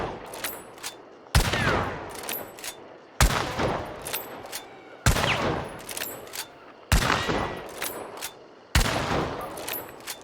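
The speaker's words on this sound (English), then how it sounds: "So this is the old hip fire again." Hip-fired weapon, an iron repeater, shooting in a video game: six sharp, loud gunshot bursts at roughly regular intervals, each with a ringing tail, and no talking.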